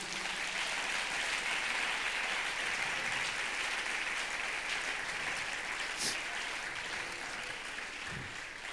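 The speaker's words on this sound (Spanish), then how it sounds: "Dele ese aplauso a Jesús." A church congregation applauding during a Spanish-language Christian sermon, a sustained, even wash of many hands clapping heard at moderate distance for several seconds.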